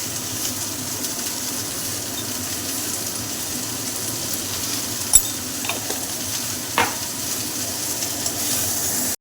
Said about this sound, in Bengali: ঝিঙেগুলো ভাজা ভাজা হয়ে গেছে